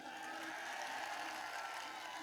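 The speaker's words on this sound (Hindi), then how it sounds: "बजाओ जोर से ताली" An outdoor crowd at the 2022 Amrit Deep Mahotsav comic poetry gathering in Karahi, Hamirpur, Uttar Pradesh, claps continuously, a steady crackling roar heard from a distance at low volume.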